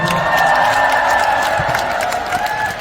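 A concert audience at a Korean Top7 concert keeps up steady, dense applause and cheering for the whole stretch, with music sounding faintly underneath.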